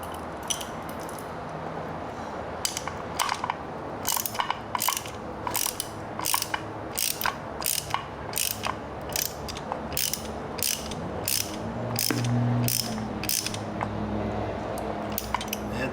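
Ratchet wrench tightening a bolt on a motorcycle pressure switch during an Aprilia RSV4 rearset install, with rapid clicking pawl ratchet bursts repeating close and clear in a quiet shop.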